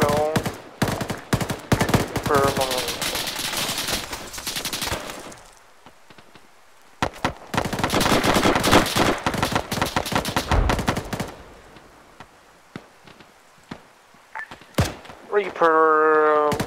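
Gunfire crackles during a military video game operation, with rapid bursts of automatic shots in two long stretches, separated by quieter gaps, and voices talking over radio near the start and end.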